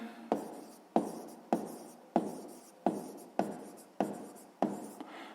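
Pen or pencil scratching on paper while an answer to a sixth-grade maths exercise is written by hand, eight short strokes in an even rhythm, close and quiet with no talking.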